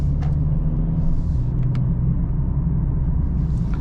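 A 2023 Mercedes GLB 35 AMG on the move produces a steady low engine and road rumble inside the cabin, constant and fairly loud, with no speech.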